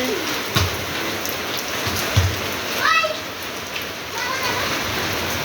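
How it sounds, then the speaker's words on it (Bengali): Steady rain falls across the whole stretch as a dense hiss, with a few brief voices and small knocks near and far beneath it. "বন্ধুরা প্রচণ্ড জোরে বৃষ্টি হচ্ছিল"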